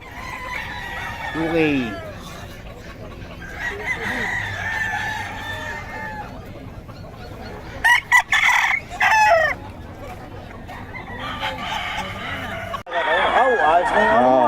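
Chickens cluck and roosters crow repeatedly, with several loud, drawn-out crows rising over a busy farmyard background. People talk briefly in between.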